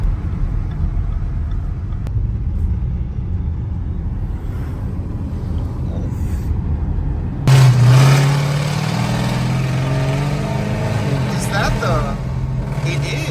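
A loud Dodge Durango leaving a car show, its engine a low, heavy rumble that suddenly swells in, near and strong, while people talk over it.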